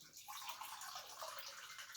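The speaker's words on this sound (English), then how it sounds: "now I'm going to pour in" A brief, soft stream of filtered water pouring into a container, gurgling and splashing faintly at close range.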